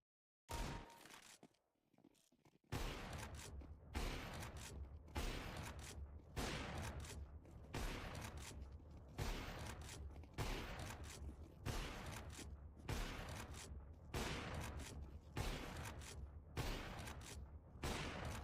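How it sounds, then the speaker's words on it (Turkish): Repeated gunfire from a sniper rifle in a video game aimbot cheat test, in dynamic mode, sounds as a long run of loud, evenly spaced shots after a quiet start, each one cracking sharply and trailing into the next. "Dinamik modda keskin nişancıyı test edelim."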